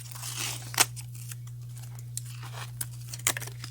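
A pack of hockey cards being unwrapped, with a few sharp crinkling tears and faint rustling of the wrapper, close and quiet, over a steady low hum.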